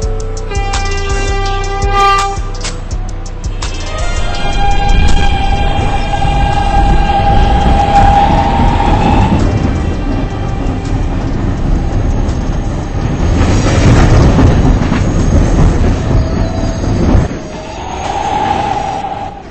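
A New York subway B train runs with loud, continuous rumbling and rattling of the cars, with tonal chime and horn-like pitches heard early and near the end over the heavy rail noise.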